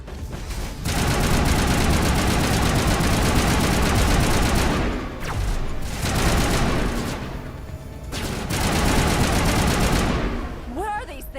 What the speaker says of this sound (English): We need to get this damn thing that keeps shooting us on the ceiling.